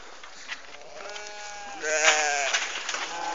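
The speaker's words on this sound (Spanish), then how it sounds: "Acá tiene sus cabras." Goats on a farm a short distance from a river bleat repeatedly in wavering, nasal calls, several overlapping cries that grow louder and closer toward the end.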